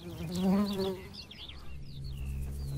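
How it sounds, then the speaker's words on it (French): A wild Lasioglossum marginatum bee, laden with pollen, returns to its nest with a close, loud buzz for about a second that then fades, leaving soft birdsong and outdoor ambience. "La petite Lasioglossum marginatum rentre au nid chargée de pollen."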